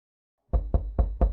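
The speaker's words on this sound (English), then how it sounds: "You hear a knock at the door." Four firm knocks on a door in a pixelated small-town noir video game, evenly spaced and close, sounding alone after a moment of silence.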